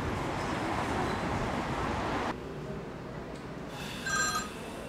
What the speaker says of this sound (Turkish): Gene arıyor bu